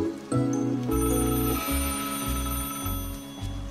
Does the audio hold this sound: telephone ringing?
yes